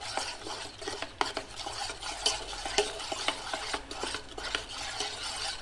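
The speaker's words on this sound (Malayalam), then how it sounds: "ഇനി നമുക്കൊന്ന് ബീറ്റ് ചെയ്തെടുക്കാം" Batter for a Dora cake with vanilla essence is beaten in a bowl, making quick, uneven tapping and scraping strokes against the sides, soft and close with no talking.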